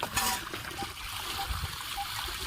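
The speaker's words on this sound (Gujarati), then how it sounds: "સરસ મજાનું પાણી આવે છે ડેમમાંથી" Water flowing out of a dam pours in a steady, close rush with a bright splashing hiss and a little trickling over the top, continuous throughout.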